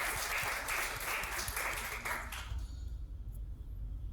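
Loud crowd applause for an AFCAT exam rank holder at a coaching institute gathering, dense steady clapping for about two and a half seconds before quickly fading to a quiet murmur.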